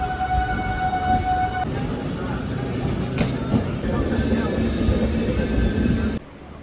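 Kanyakumari express train running on rails, a loud, steady rumble of wheels and carriages heard from on board, with a squealing tone early on and a sudden drop in level near the end.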